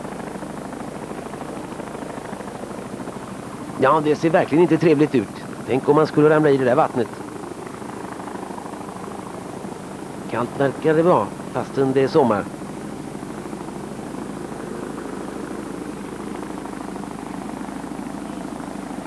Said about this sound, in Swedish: Se, helikoptern hänger fritt här och nu ska den fira upp en man